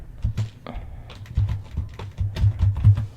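Someone types quickly on a computer keyboard, entering a search into a web browser. Close, irregular key clicks and soft thumps come in quick bursts with brief pauses, with no voices.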